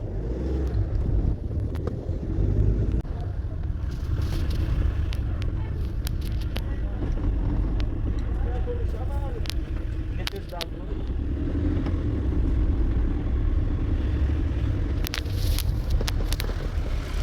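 A car drives along with a cat riding inside, steady engine and road rumble throughout with wind buffeting, some faint clicks and a brief high chirp, and a person talking over it.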